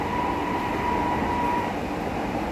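A Lucknow Metro train travels between stations at night, heard from inside as a steady, close rumble with a faint high whine, and no voices.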